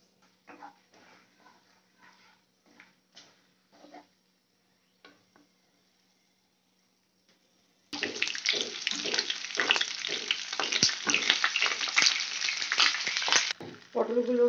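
Pointed gourd pieces fry with turmeric in a pan, giving a loud, close, crackling sizzle that starts abruptly after a quiet stretch of faint intermittent knocks and carries on steadily before dropping briefly.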